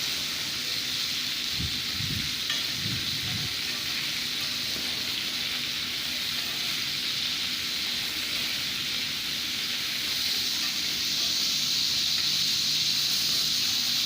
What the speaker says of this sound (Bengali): এইভাবে আমি সব মাছগুলোকে ভেজে নেব।